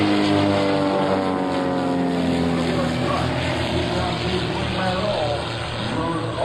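Engine drone from the Split Image Team's aircraft flying in formation at the 2003 Willow Grove Air Fest, a steady loud rumble with shifting harmonic tones, running throughout under a narrator's voice.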